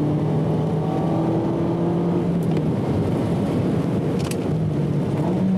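A car's engine drones loudly and steadily with shifting pitch as it accelerates through a corner on a circuit, the limited-slip differential working, with no talking over it.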